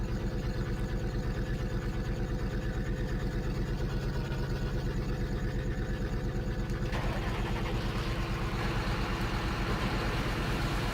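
A tractor engine in Farming Simulator 2013 on the modded Idaho map idles steadily with a low, even rumble, continuous and moderately quiet throughout with no talk.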